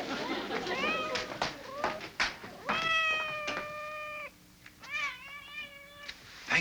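A temperamental cat meows repeatedly in a series of loud, rising and falling cries, close by with short pauses between them, inside a house with someone working beneath the floor.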